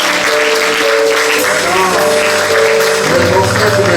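A church congregation applauds during a pastoral consecration ceremony, with steady, dense clapping throughout, mixed with voices and sustained musical tones underneath.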